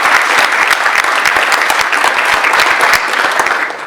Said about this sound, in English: we can stop and clap.